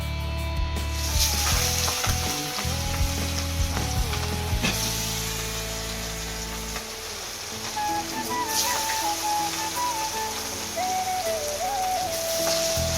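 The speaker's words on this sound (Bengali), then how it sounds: "তো আমাদের এখন কাতলা মাছ ভাজা হচ্ছে" Catla fish frying in oil with a busy crackling sizzle, under a steady background hum and faint tonal music-like sounds.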